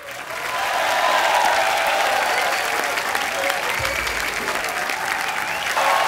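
Loud, sustained applause from a live audience greeting two singers on a comedy show stage, a steady wash of clapping that swells in and holds without letup.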